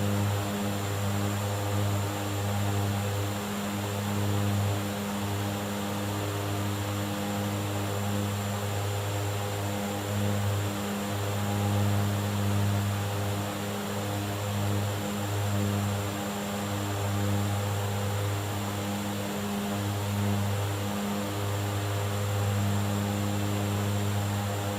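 Widerøe Dash 8 Q400 turboprop in X-Plane 12 flight simulator, a steady, loud propeller and engine drone with a constant hum and slight pulsing, continuous throughout with no talking.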